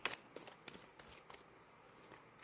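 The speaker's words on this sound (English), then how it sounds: "I will give it a few more shuffles just to see if anything wants to pop out" Tarot cards are shuffled faintly and close by in a quiet room, with soft repeated slides and light flicks of the deck.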